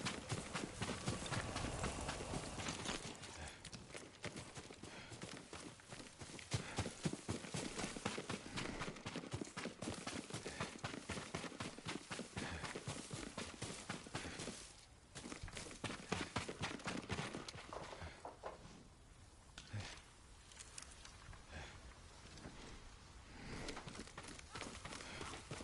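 Horse hooves clip-clop in a steady rhythm through the video game Ghost of Tsushima, fairly close and continuous, layered over ambient game sound and music.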